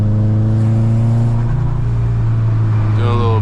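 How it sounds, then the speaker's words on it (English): A Subaru WRX hatchback engine hums and revs while driving through a downtown city area, a loud, steady low drone that rises slightly in pitch, with a voice talking over it near the end. "doing a little POV drive in the city, downtown."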